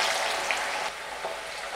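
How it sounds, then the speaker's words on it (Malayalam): Mango pieces fry in sesame oil over a medium flame, a soft steady sizzle with faint crackling that fades slightly midway, heard alone without talk. "ഇനി അരിഞ്ഞു വെച്ചിട്ടുള്ള മാങ്ങ കഷ്ണങ്ങൾ കുറേശ്ശെ വറുത്തെടുക്കണം കേട്ടോ."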